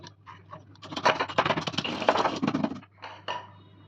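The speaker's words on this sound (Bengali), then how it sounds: "চিকেনটা ভাজা হতে হতে আমি এটা গুঁড়ো করে নেব।" Whole spices for a kadai chicken masala being ground coarsely, a close gritty scraping and rubbing that builds into dense rapid grinding for about two seconds, then tapers to a few lighter scrapes, with no talking.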